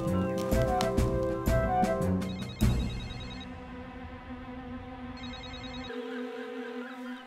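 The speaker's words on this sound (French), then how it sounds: "Pourquoi personne ne décroche son téléphone aujourd'hui?" A telephone rings repeatedly in rapid bursts, loud and near, then gives way to a sustained electronic tone, in a children's cartoon.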